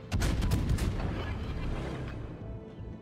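A loud naval artillery salvo booms in World of Warships from a French battleship Henri IV, a heavy close blast that rolls into a long, gradually fading rumble.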